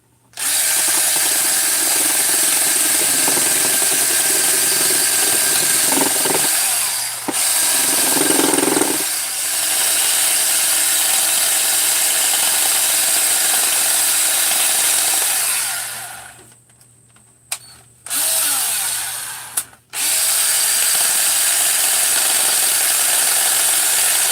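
Scotch-Brite abrasive pad driven by a power tool scrubs old gasket material off a Jonsered 630 chainsaw crankcase, a loud, steady grinding whir running almost continuously with a few brief drops and pauses near the end.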